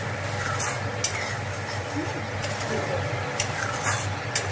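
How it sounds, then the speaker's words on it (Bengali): A spoon works butter masala paste of ground cashew, melon seeds and poppy seeds around a pan as it sautés, a constant low sizzle under scraping strokes and a few light metallic taps. "এটাকে একটু ভালো করে নাড়িয়ে চাড়িয়ে কষিয়ে নেবো।"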